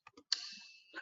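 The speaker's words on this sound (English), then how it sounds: "You just have to click the down arrow in your keyboard" A few light clicks on a computer keyboard's down arrow key, followed by a sustained electronic tone.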